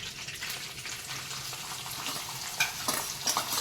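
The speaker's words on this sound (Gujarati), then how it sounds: "પછી તેમાં આપણે લીલી ડુંગળી સમારી છે એ લીલી ડુંગળી નાખી દઈશું।" Chopped green onions sizzling in hot oil with a pinch of asafoetida, a steady close hiss broken near the end by a few stirring scrapes, no talking.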